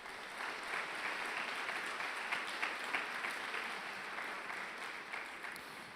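A church congregation claps together in a sustained round of applause, dense and even throughout, fairly distant and moderately quiet.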